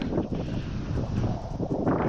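Wind of about ten knots blows across a sailboat at sea in the Mediterranean between Toulon and the Balearics, a steady gusty rush buffeting the microphone, close and fairly loud with no talking.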